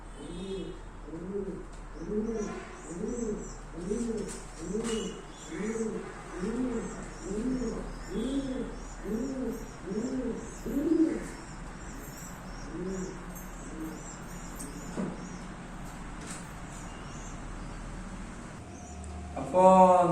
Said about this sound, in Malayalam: അതാണ് പ്രാവ്